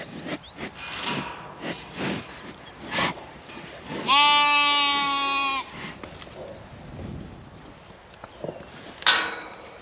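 Sheep and lambs bleating on a farm, several short calls scattered through the clip with one long, wavering bleat in the middle and another near the end, close by over quiet rustling and footsteps.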